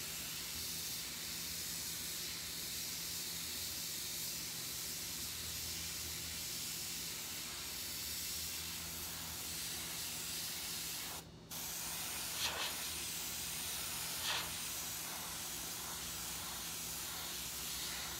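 Airbrush spraying paint onto objects such as a pumpkin and shirt, a steady continuous hiss running throughout with a brief pause and short bursts near the end, fairly close and alone without talk.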